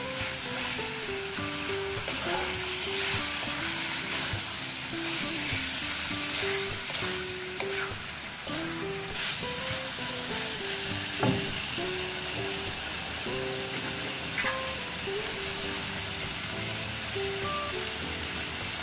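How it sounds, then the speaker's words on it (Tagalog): Sautéed garlic chicken with a dissolving chicken cube sizzles loudly and continuously in a pan while being stirred, with occasional clinks and scrapes of the spoon over a bright frying hiss. "Haluin ng maayos para matunaw yung ating chicken cube."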